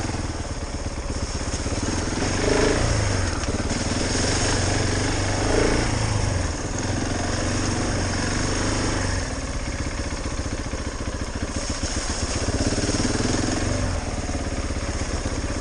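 A KTM 690 Enduro R single-cylinder motorcycle runs through its exhaust during an off-road ride, a continuous loud mid-pitched engine drone with steady throb and slight swells, close and unbroken.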